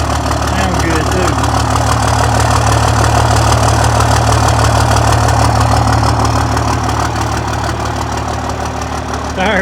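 A 1994 12-valve truck diesel idling, a steady low rumble with a rapid knocking clatter, close and loud throughout.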